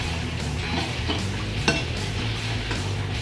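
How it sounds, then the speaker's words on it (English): A spoon stirs a brisket marinade of salt and other seasonings in a bowl, making close, repeated soft scraping and wet swishing with an occasional light clink of utensil on dish. "Now you want to mix this up really well."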